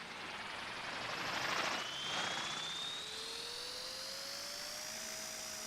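A model helicopter with a larger tail rotor flies in the RealFlight Evolution simulator, its steady rotor and turbine whine holding throughout while the pitch climbs gradually, with no talk.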